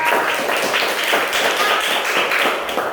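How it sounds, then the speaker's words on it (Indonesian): Children in an elementary school classroom clap together for a group of classmates, a steady, lively patter of many small hands, close and continuous for a few seconds. "Kasih tepuk tangan dong buat kelompoknya Nabila."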